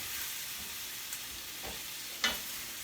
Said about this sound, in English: Toast this until everything is coated and fully combined, and the onion and the garlic.